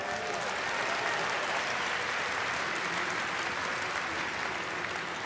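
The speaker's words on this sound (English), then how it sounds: "Give them a round of applause." Steady, dense applause from a large convention audience at BlizzCon, greeting a panel of Diablo developers; loud and sustained throughout with no talk over it.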